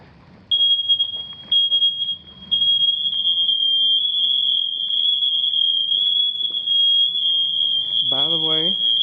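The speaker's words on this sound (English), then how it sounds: "Smoke alarms and carbon monoxide alarms are in all of the appropriate locations, and they work." A household smoke alarm, set off by pressing its test button, emits a loud, continuous high-pitched beep close by in a newly built house, with brief interruptions early on and a voice speaking underneath.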